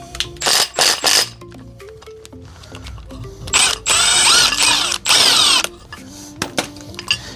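A power tool with a gear puller works an old pinion gear off a shaft during a gearing change, giving close, loud bursts of whirring and ratcheting separated by short pauses and small mechanical clicks.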